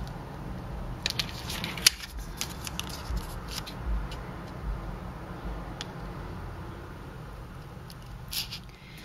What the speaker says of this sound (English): So now I'm simply going to cut out my shape while this is still folded.